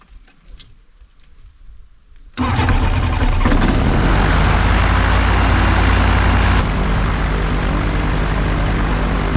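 After quiet clinking, a propeller engine roars to life abruptly and keeps running loud and steady, a dense rumbling drone close by.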